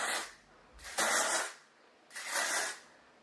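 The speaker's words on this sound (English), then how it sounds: "lift up my hair and spray just through several sections of my hair" Hairspray hisses from a can in three close bursts as it is sprayed through lifted sections of hair, with brief quiet pauses between them.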